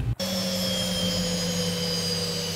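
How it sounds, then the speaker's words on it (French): Boeing 737-800 jet engines in X-Plane 11 whining at a sustained high pitch after a brief dropout, loud and steady with no one talking. "Ce que l'on va faire, c'est éteindre nos moteurs."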